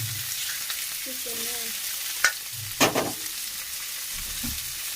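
Sliced onions fry in oil in a pan, a steady close sizzle with a few sharp stirring scrapes and clatters partway through; no one speaks.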